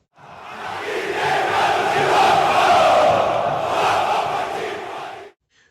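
A large crowd of Corinthians fans chants and roars in a stadium, a dense, swelling wall of voices that rises, holds for several seconds, then cuts off abruptly.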